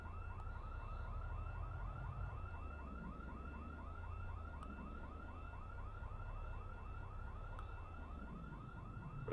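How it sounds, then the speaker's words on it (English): Car alarm blaring in the Project Zomboid multiplayer game, a steady looping electronic whoop repeating rapidly and continuously at a loud level over a low rumbling background. "I hear the alarm."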